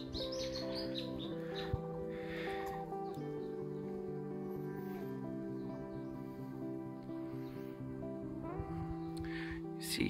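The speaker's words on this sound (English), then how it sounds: "Some loud birds or frogs around here." Loud birds or frogs calling along a hiking trail, a dense, continuous chorus of overlapping tonal calls and chirps, heard at a fairly soft overall level.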